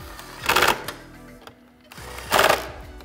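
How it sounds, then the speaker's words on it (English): A 1/4 inch impact driver drives screws into plastic while flood work lights are mounted on a Jeep JL Wrangler or Gladiator, giving two short, loud rattling bursts separated by a quiet pause. "we're going to just use a 1/4 inch impact here to make things a little quicker"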